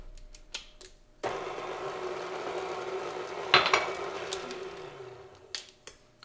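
Eggs being mixed in a bowl for chocolate cupcake batter, a few light clinks and then a steady whirring, clattering stretch of about four seconds with a sharper knock midway, trailing off into scattered taps.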